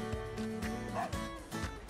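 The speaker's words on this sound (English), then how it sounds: "Lots of barking." Dog barks and yips from a video game, repeated close barks over continuous game music and sound effects.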